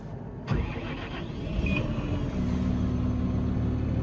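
A Massey Ferguson 7S tractor engine cranks and catches, then settles into a steady, rumbling idle, close by.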